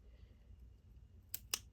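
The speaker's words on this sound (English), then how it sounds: "I'm going to get in with my scissors" Two quick, crisp snips of scissors cutting through watercolor swatch paper, close and fairly faint against a quiet room.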